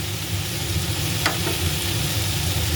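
Boiled soya chunks fry in a pan with chillies while being stirred, giving a steady loud sizzle and a brief scraping stir partway through, with no talking.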